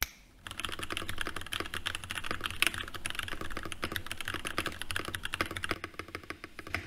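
Fingers type on a custom steampunk-styled mechanical keyboard fitted with tactile switches, producing a fast, continuous run of close, crisp clacks for several seconds, fairly quiet, with no voices.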